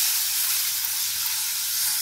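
About three bowls of water poured into hot golden-brown semolina in a pan on a low gas flame for suji halwa, giving a steady loud hiss and sizzle of steam throughout, with no talking.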